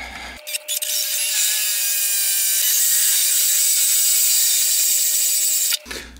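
Power drill boring through an MDF speaker cabinet to mount binding posts, a loud, close, sustained whine of about five seconds with a steady pitch, starting and stopping abruptly.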